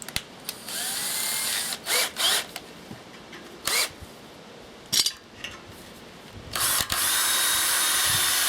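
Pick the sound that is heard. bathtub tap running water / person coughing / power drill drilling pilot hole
power drill drilling pilot hole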